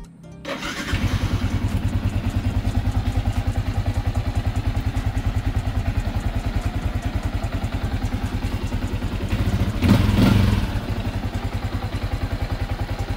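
A single-cylinder motorcycle catches after a brief start and settles into a rapid, steady thumping idle as it warms up, with one short louder burst of throttle partway through before it falls back to the even beat.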